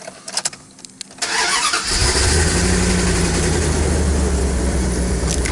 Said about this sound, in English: We're gonna get a little cold start action.